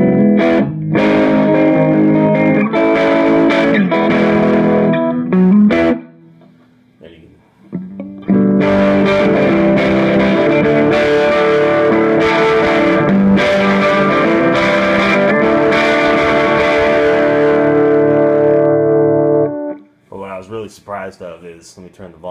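Orange Micro Terror guitar amp with the gain set just below noon, producing a loud crunchy distorted guitar tone with sustained chords and riffs, briefly dropping out midway and near the end.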